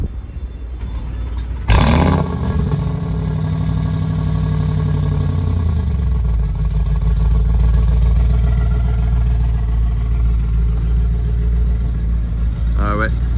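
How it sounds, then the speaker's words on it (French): A Bentley Bentayga Mansory with an aftermarket exhaust line fires up outdoors in Dubai with a sharp loud start, then settles into a deep rumbling idle that continues steadily; a voice speaks briefly near the start and end. "Bah, ils vont démarrer le Bentayga Mansory."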